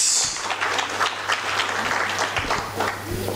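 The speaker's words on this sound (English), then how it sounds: "Round of applause." Conference audience applauding, a dense wash of clapping that stays fairly steady across the whole stretch before tapering slightly, with no talk over it.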